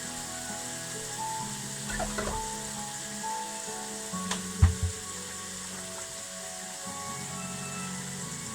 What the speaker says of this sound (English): So I've got the bacon cooking off.